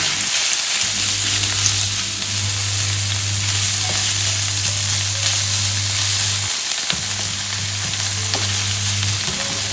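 Champignon mushrooms sizzle steadily in a hot pan for pesto pasta, a loud continuous frying hiss with faint scraping as they are stirred.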